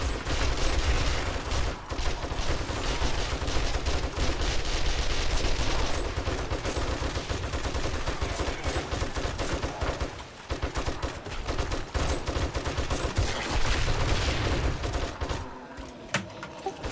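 Continuous automatic gunfire from the video game 7 Days to Die, with rapid bursts of shots fired at rockets, loud and dense throughout with a brief dip near the end, and no talk.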